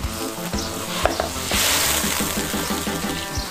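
Fish bones hitting hot oil in a wok give a loud, steady sizzle and crackle, with a sharp splash near the start and a brief stir of the pan; no one speaks.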